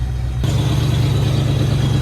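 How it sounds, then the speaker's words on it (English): A car engine cold-starts in snow, catches and settles into a steady, fast idle with a constant low hum and slight rattle. "She is idling high."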